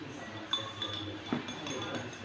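A spoon taps and clinks against a glass of warm water with oil during a school chemistry lab on compound polarity, giving three or four light, bright clinks over a faint background hiss.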